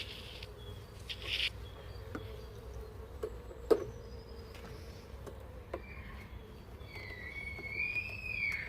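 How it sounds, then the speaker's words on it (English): Bees buzz at an open beehive frame, a soft steady insect hum with occasional louder passes of individual bees flying close by, and scattered small clicks and taps. "this seems like the most bee-filled frame, the busiest frame of the nest"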